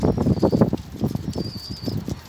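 A young crested pigeon flaps its wings in rapid, close bursts while held in the hand, the fluttering loud and uneven with brief pauses between flurries.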